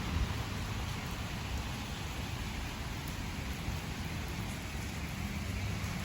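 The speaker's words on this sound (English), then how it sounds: "Started raining a bit." Light rain falls outdoors as a steady, even hiss of soft patter that continues without a break, with no voices.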